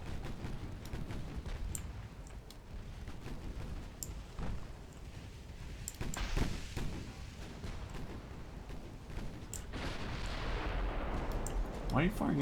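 Warship guns firing in Ultimate Admiral Dreadnoughts, with heavy, distant booming salvos and scattered sharp reports over a low rumbling sea-battle backdrop, growing louder and denser toward the end.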